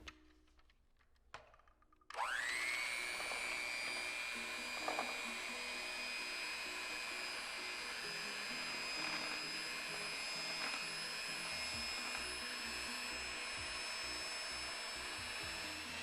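A handheld electric mixer starts up after two seconds of quiet and then beats egg whites for tiramisu in a steady, loud, high whine that runs to the end with slight shifts in pitch.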